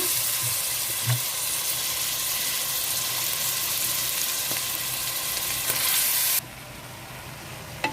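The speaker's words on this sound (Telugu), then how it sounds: "రైస్ వేస్తానండి బాగా కలుపుకుందాము" Basmati rice is added to a pot of frying spices for pulao and stirred in, giving a steady close sizzle throughout with a few soft knocks early on; the sizzle drops noticeably quieter near the end.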